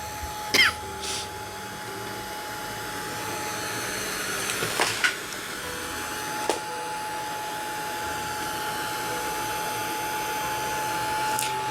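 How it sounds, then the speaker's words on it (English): Heat gun blowing hot air to dry chalk paint and acrylic paint, a steady whirring drone held throughout, close and fairly loud, with a few short clicks and knocks near the start. "I'll use my heat gun to speed up the drying process"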